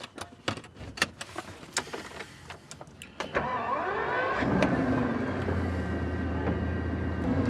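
A Bugatti Veyron pulls out of a German service station at night, its engine note rising into a steady, loud drone after a few clicks and bumps.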